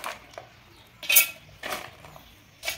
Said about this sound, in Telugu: మిక్సీ జార్లో ఈ మొలకెత్తిన విత్తనాలు ఇందులో వేస్తున్నా.